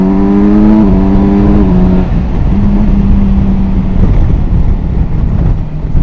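Kawasaki Versys 1100 SE motorcycle engine pulling hard in third gear on a climb, loud steady drone rising in pitch through two revving surges with a shift-like dip, wind rush over it, no talk.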